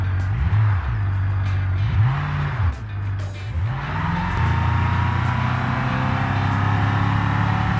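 Pickup truck in the BeamNG driving game climbing a hill in first gear, engine revving up and dropping in repeated swells before settling into a sustained loud drone, with no one talking.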